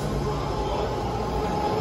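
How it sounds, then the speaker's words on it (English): A new ten-car, three-door Green Line train to San Francisco and Daly City rumbles at platform 2 of the station, with a continuous loud, close rail roar throughout. "Green Line, San Francisco Daly City train,"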